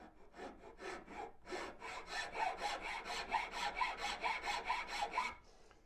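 A wood rasp files rhythmically across a carved wooden spoon blank in a steady run of about twenty rough scraping strokes, close and fairly loud, each push a short gritty burst.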